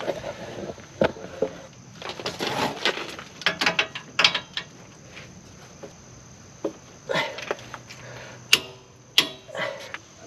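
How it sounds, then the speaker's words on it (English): A torque wrench ratchets on the U-bolt nuts of a 2019-or-later Mercedes Sprinter van, with irregular clicking bursts and metallic knocks close by, separated by brief pauses. "the nuts on the U-bolts need to be torqued to 140 foot-pounds, so we're going to do that right now"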